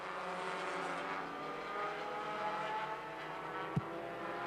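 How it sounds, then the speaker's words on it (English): Compact touring race cars circle a 3/8 mile oval at Angola Motorsport Speedway. Their engines blend into a steady, distant roar, and a brief thump near the end stands out. "As we've got cars all over this 3/8 mile racetrack."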